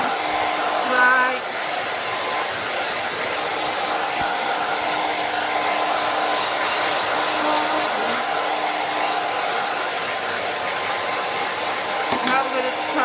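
A JINRI 104A11 1800W professional infrared ionic blow dryer runs steadily close up while drying hair, a constant loud whooshing hum of fan and airflow with a brief bump near the start and no talk.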